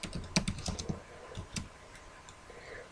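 Code being typed on a computer keyboard, a quick burst of close key clicks that slows to a few separate taps, then a quiet pause, no talking.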